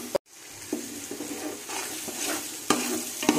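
Ground mint paste being stirred into frying coriander and masala in a pan for Tamil-style chicken biryani, with a steady sizzle under repeated scraping stirs and a sharp clatter at the start.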